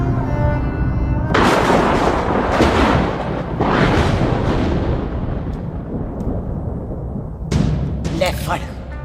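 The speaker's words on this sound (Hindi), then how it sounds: "मार दी सारी गोलियां उसकी छाती में" Gunfire in a Bollywood film scene: bursts of heavy booming shots ring out among loud, rumbling reverberant blasts, with an earlier tonal voice fading into the barrage.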